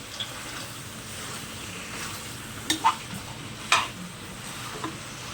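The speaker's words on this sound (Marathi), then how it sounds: "त्याला 5 मिनिटं ना आपण असं कांद्यावर फ्राय करून घेऊया चांगलं" Mutton frying with onions and masala in a pan, a steady close sizzle with a few sharper stirring scrapes and clacks partway through.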